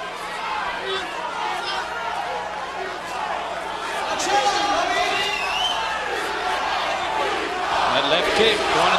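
A large arena crowd of over 6,000 people at the Blaisdell during a fight chants and roars together, a dense, steady wall of voices that swells midway, with announcer-style speech running over it.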